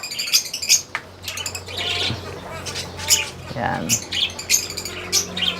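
Growing bird chicks in a coop give bright high chirps and squawky calls in irregular bursts, close by, with rustling and a short spoken word between the calls.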